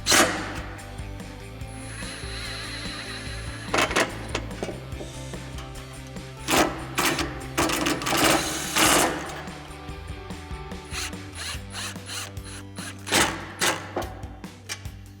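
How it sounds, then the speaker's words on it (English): An impact driver fitted with a T25 Torx bit drives bolts on a Jeep Wrangler JL while a Bestop Safari-style header bikini top is installed. Short, sharp rattling bursts come in irregular clusters over a steady mechanical background. "we'll grab our T25 Torx bit on an impact and an 8mm wrench and tighten these down."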